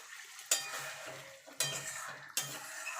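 Egg masala sizzles quietly in a pan as a little water goes in, with three sharp bursts of hissing and utensil clatter standing out over a low, steady frying crackle; no voices.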